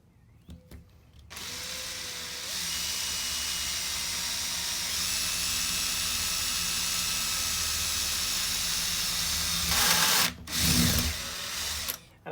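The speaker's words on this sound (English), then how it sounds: "I'm going to go ahead and drill from this side coming out" A power drill with a larger bit bores through a door for a handle install, whirring steadily and close for about eight seconds before slowing and stopping, followed by a couple of brief bursts.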